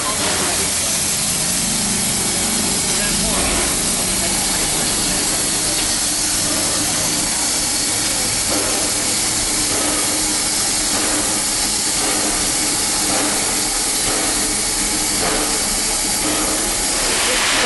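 Steady broadband hiss of a Walt Disney World Railroad steam train fills the scene, with faint rail clatter and distant crowd noise underneath, continuous and fairly loud throughout.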